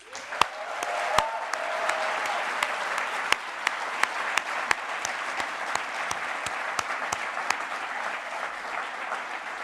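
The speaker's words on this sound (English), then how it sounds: "Please give yourself a huge round of applause" Graduates at a Master in Development Studies graduation ceremony applaud in a large hall, a sustained dense wash of clapping with a few sharp, distinct claps standing out near the front.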